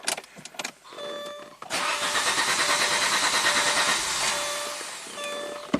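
A '91 Audi 200 Quattro turbo engine with its intercooler removed clatters through a short crank, catches, and settles into a loud, slightly uneven running note close by.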